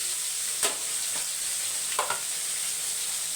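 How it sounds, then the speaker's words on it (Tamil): Small onions sautéing in a pan, a soft continuous sizzle broken by a few sharp stirring clicks of a spoon against the pan, close and steady with no voices. "வதக்கி விட்டுக்கோங்க பாதி வதங்கினோன்னா ஒரு இரநூறு கிராம் சின்ன வெங்காயம்"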